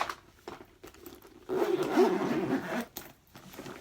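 A zipper is pulled closed in one steady zip lasting about a second and a half, close and clear, framed by a few soft handling taps and rustles.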